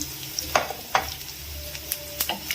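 Cashews, chana dal and peanuts frying in hot oil with softened onion, a steady low sizzle broken by a few sharp clinks and scrapes of stirring, close and moderately quiet.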